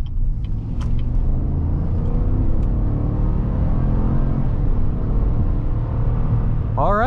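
A 2019 Cadillac Escalade's 6.2-liter V8 rumbles steadily as the SUV accelerates on a snowy night drive, a loud, continuous low engine drone heard from inside the cabin with no talk.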